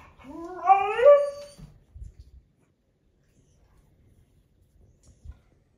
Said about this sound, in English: Just capturing a little dog action.